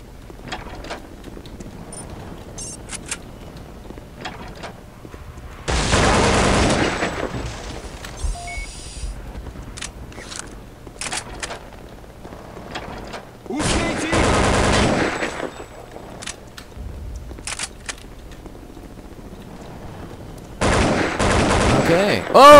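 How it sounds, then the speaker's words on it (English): AK assault rifle fire in Counter-Strike: Condition Zero Deleted Scenes: three loud sustained automatic bursts, each lasting a couple of seconds and separated by quieter stretches of ambient game sound. "Got an AK."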